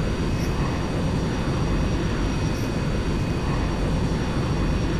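Airbus A380 taxiing to the runway in a flight simulator, a steady, loud jet engine rumble and whine with constant broadband noise and no change in pitch.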